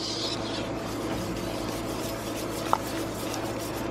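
Melting cheese is stirred in a pot set on an outdoor grill, a steady soft scraping and faint sizzle with one brief metallic clink, no voices over it.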